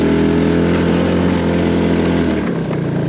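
A HammerHead 250cc go-kart engine drones steadily and loud as the kart climbs a lawn, its tone holding even before dipping slightly near the end.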